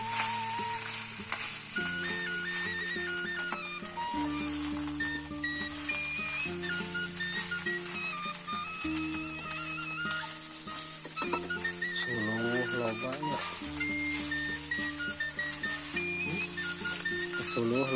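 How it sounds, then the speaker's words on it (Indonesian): Rice frying in a pan in a village kitchen gives a steady, close sizzle with occasional stirring, running under continuous melodic music throughout. "Goreng sangu"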